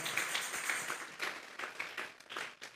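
A church congregation clapping as an offering to God, a modest scattered patter of hands in a hall, moderately quiet and uneven in rhythm, rising and falling over a few seconds.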